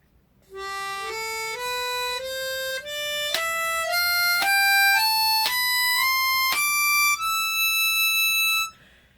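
A Schylling piano horn plays an ascending scale, one clear sustained reedy note after another, steady and evenly spaced, alone against a quiet background.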